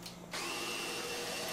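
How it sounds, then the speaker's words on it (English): A power drill spins up and turns the lead screw of a CNC router, giving a close, steady whirring drone that starts suddenly and runs on. "You can see I'm just moving it a little bit with the screw using the drill there."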